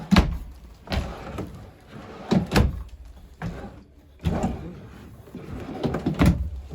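Drawers in a 2021 Wildwood 40FDEN travel trailer slide open and shut several times, each pass ending in a soft wooden thump, close by and without talk.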